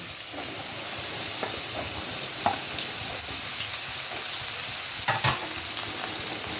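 Potatoes and pointed gourd fry in oil with a constant, fairly loud sizzle close by, while occasional spatula knocks and scrapes mark the stirring.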